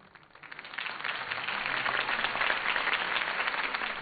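Crowd applause from Batman: The Telltale Series swells up from quiet in the first second into steady, moderately loud clapping that continues evenly to the end.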